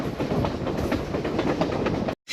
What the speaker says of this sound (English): The train is moving a bit faster than on the way to the Grand Canyon because we're going downhill.